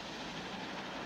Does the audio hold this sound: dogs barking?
no